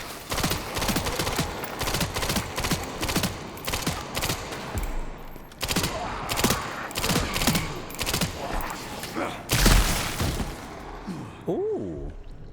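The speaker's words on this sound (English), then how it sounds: "We're gonna test out the submachine gun though." Submachine gun fire in Resident Evil Requiem comes in long, rapid, loud bursts with brief pauses, a heavy blast near the end, and a voice speaking faintly over the final seconds.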